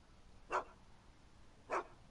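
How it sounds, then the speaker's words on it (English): A dog in the Back to the Future video game barks twice, two short, fairly loud yaps about a second apart over a quiet background. "Why couldn't Doc have invented a dog translator?"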